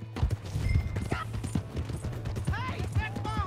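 Horse hooves clip-clop steadily on the ground in the video game Red Dead Redemption 2, a rhythmic near trot under voices talking, with a brief whinny-like cry toward the end.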